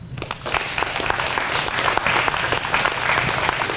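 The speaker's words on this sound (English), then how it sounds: "let's give one big round of applause to Detective Miles Orth." Dense, steady applause from an audience at a ceremony saluting a police detective with the West Fargo Police Department, sustained and fairly loud throughout with many overlapping claps and no voices on top.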